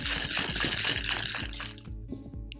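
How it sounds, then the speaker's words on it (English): Lime juice, sour mix and lemon juice are poured into a mixing glass for a pomegranate margarita, giving a close, steady splashing trickle that stops short near the end with a few small drips. "1/2 ounce of lime juice, 1/4 ounce of sour mix, a little half of lemon juice into our mixing glass"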